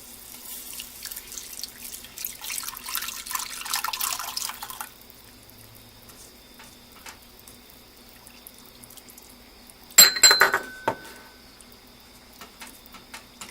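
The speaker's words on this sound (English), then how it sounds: "I'm going to add the milk" Milk is poured into a flour-thickened white sauce for green beans. A steady liquid rush lasts about five seconds, followed by quiet, then a short, sharp burst of whisk clatter against the pan, and no one talks.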